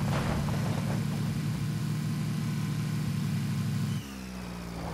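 A jeep engine in the video game Battlegrounds drones with a steady, loud rumbling hum, then drops abruptly to a lower, quieter tone near the end as if easing off.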